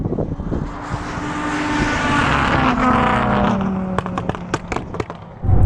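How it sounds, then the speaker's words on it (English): A rallycross car launches hard off the line in a drag race against a Bugatti Chiron Super Sport and a 1600-horsepower Lamborghini Huracán, a loud roaring surge that swells then gives way to sharp crackling pops and bangs. "That rallycross car absolutely nails it off the line."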